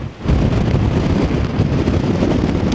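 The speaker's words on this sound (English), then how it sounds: "It's extremely windy." Strong, continuous wind buffets the microphone on an exposed hilltop at Kinder Scout, a loud steady roar with rumbling gusts and no speech.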